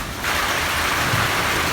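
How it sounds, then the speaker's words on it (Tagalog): Rain pours down outside on a dark, stormy afternoon, a steady dense hiss that swells up after a brief quieter moment and then holds constant without pause. "Ulan na nga."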